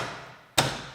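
A 2000s Pontiac Grand Am door panel snaps into place with one sharp thud-click, close and fairly loud, after a faint hiss of background noise.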